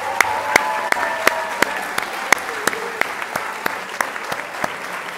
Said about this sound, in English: if we could have a round of applause for them, I'd appreciate it.